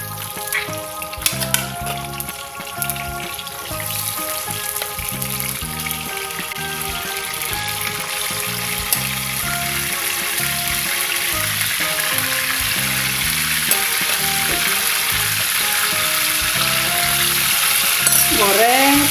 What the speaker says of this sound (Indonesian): Goreng sampai kuning ke coklat ya bu ya.